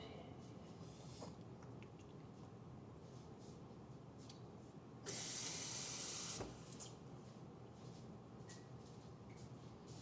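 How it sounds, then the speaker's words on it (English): Water is put on a houseplant indoors in a single faint hissing burst lasting about a second and a half over quiet room noise. "Let me water my plant."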